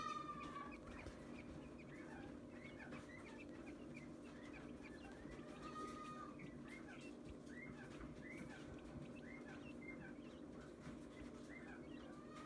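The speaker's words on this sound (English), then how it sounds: "They're Coturnix quail, what they call a pharaoh." Baby Coturnix quail chicks of the pharaoh variety on a farm: constant faint high peeping and chirping from several chicks together, over a steady low background hum.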